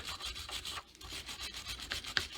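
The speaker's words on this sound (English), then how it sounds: "I'm going to hit that 10mm head size bolt with a wire brush quick" A wire brush scrubs the head of a 10mm bolt held in a vise during front brake hose work on a 2004–2008 Ford F-150, with quick rough back-and-forth rasping strokes, close and steady, ending in a small sharp tick.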